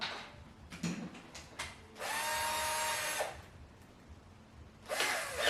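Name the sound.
power drill drilling wood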